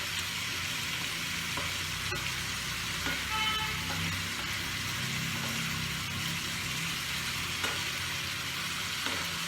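Slit green chillies fry in a pabda fish curry, a steady, close oil sizzle with occasional light clicks of stirring and no voices.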